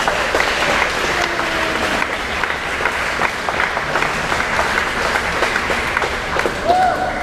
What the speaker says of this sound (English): let's give a round of applause for all the parents that came out.